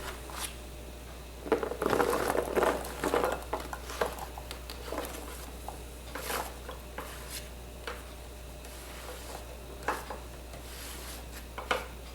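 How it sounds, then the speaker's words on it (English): Soft stirring and scraping as celery is mixed into a chicken casserole mixture in a bowl, with light patters and utensil taps, close and quiet. "we're going to pour all the celery into our mixture and mix it all together"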